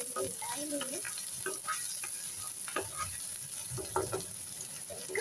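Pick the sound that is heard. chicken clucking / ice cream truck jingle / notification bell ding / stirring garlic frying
stirring garlic frying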